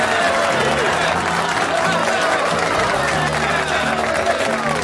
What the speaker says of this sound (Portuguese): A gente vai fechar aqui com uma salva de palmas para a dona Orádia